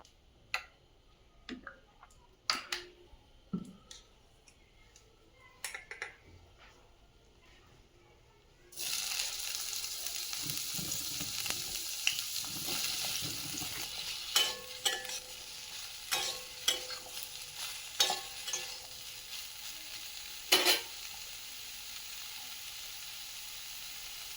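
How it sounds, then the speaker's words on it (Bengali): Soybean chunks frying in a pan: scattered clinks and scrapes for several seconds, then a sudden steady sizzle rises and continues under repeated stirring clacks, close and clear, with no talk. "এবারে সয়াবিনটা ভেজে নেব।"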